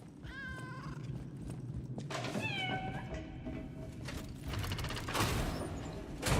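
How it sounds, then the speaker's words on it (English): A cat meows twice in the video game Lies of P: a short, clear call, then a longer one, both close, over a busy background of clanking, ratcheting mechanical game noise. "Kitty. Hi, kitty. Hi, kitty. Get back here."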